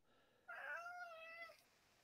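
A cat gives one clear, drawn-out meow that rises and then trails off, fairly close against a quiet background.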